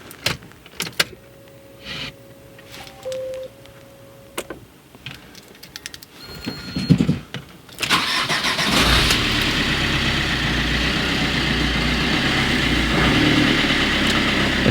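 Alfa Romeo MiTo engine cranks and catches after a few faint clicks and beeps, then settles into a steady, fairly loud idle that runs unbroken to the end.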